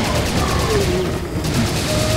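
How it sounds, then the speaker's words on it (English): Rapid Uzi fire from the Serious Sam 2 video game, a dense continuous burst of loud shots with a faint pause midway, mixed with game effects and tones. "the Uzi is great for shooting at the gong"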